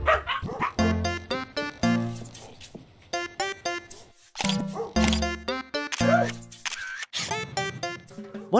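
Dogs bark repeatedly in the first-person photography game Paparazzi, with short, bright yips and woofs arriving in quick bursts, mixed with camera shutter clicks.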